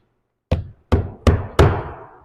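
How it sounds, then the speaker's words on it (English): Four sharp hammer blows drive nails into an asphalt roofing shingle, each a crisp close thud with a short ringing tail, the strikes coming in quickening succession. "I'll put 3 nails on this piece."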